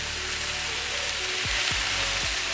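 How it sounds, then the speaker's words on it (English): Vegetables for pumpkin soup sizzle in a pan on the hot side of an Aga cooker, a steady close crackling hiss with a few soft low knocks of the pan near the end. "So I'm just getting a little bit of heat through these veg now."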